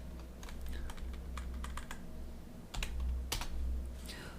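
Typing a worksheet name on a computer keyboard, a quick run of crisp key taps in short bursts, close and fairly quiet, with a louder keystroke near the end.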